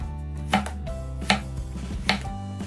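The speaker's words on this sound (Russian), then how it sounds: "А теперь беру 2-3 яблока, нарезаю дольками." A knife slices 2-3 apples into wedges for an apple pie, striking a cutting board three times in an even rhythm, close and clear with no talking.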